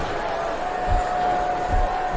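Wrestling arena crowd in the video game WWE SmackDown vs. Raw 2007, a steady murmuring roar with a few low thumps swelling slightly, under a faint continuous tone.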